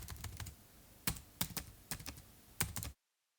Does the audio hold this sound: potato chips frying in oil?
no